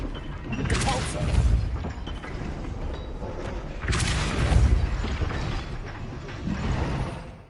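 Depulso spell effects from a Harry Potter video game, booming blasts with crashing, mechanical impacts, three heavy bursts in a row with noisy rumble between them.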